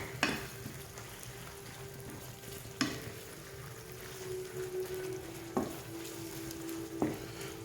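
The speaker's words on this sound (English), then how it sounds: "we're just browning a pound of, you can use ground chuck" A pound of ground chuck browns for Texas chili in a pan with a quiet, steady sizzle, broken by a few sharp spoon knocks against the pan. No voices.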